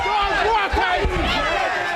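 A sellout boxing crowd at Caesars roars loudly and continuously, a dense wall of cheering and shouting voices with thumps and calls rising through it.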